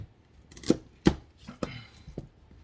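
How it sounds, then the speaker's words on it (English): A knife rough-chopping celery ribs on a cutting board, several sharp, separate thunks at an uneven pace, close and clear with no talk. "got a couple ribs of celery here. Just gonna do a rough chop"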